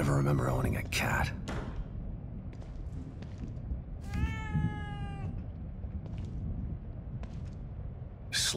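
A cat meows in the horror video game The Evil Within 2, with several short mewing calls near the start and a longer rising meow midway, over a low ambient game drone.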